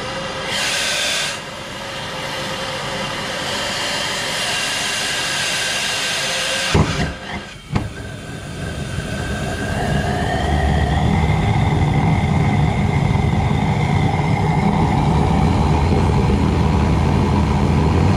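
A foundry burner with a silicon carbide combustor nozzle fires with a steady, loud roar that briefly sputters and cuts out, then relights and builds to a fuller, deeper rumble; no talk.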